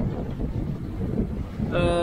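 Steady wind and sea swell rush around a sailboat sailing toward Guadeloupe in a 10 to 15 knot breeze, a continuous close buffeting roar with gentle surges, and a faint tonal whine entering near the end.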